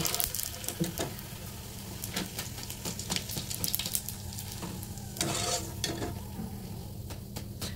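Puris fry in hot oil in a pan on a gas stove turned low, giving a steady, close sizzle with bubbling crackle, sharp spatter pops and occasional stirring scrapes throughout.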